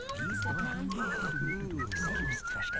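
Characters in a medieval life-simulation video game whistle a wavering, melodic tune continuously over game background sound, with layered low tones and clicks beneath the whistling.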